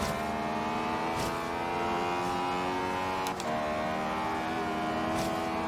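Racing car engine in Forza Horizon 3 holds a steady high drone of layered harmonics through the whole stretch, with faint brief clicks and a slight dip near the middle, no talk over it.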